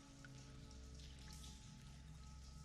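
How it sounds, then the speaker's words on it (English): Steady patter of dripping water inside a cave, a dense, faint wash of drops with a low droning hum beneath. "And you can hear dripping water."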